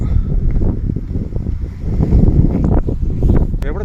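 Loud gusting wind at the Ottakathalamedu hilltop near Thekkady buffets the microphone, a rumbling roar that surges and eases without pause.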